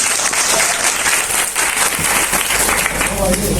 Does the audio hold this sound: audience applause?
yes